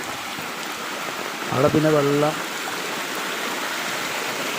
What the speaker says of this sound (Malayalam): ഒന്നായിട്ട് വെള്ളം ഇങ്ങനെ ഒലിച്ചു വരുന്നതേ